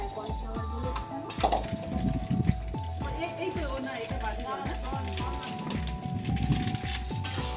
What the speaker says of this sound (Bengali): এটা একটা ছোট জায়গার মধ্যে ঢেলে নেওয়া হচ্ছে, কারণ কড়াতে রাখা হবে না